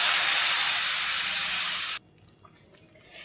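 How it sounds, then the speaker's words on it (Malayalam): Squeezed tamarind water poured into a hot pan of bitter gourd stir-fry sets off a loud, steady sizzling hiss for about two seconds, then drops abruptly to quiet pan crackles. "ചെറിയൊരു പീസ് വാളൻ പുളി എടുത്തിട്ടുണ്ടായിരുന്നു, അത് പിഴിഞ്ഞത് ഇതിൽ ചേർക്കാം."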